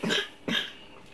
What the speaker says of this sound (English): this guy's coughing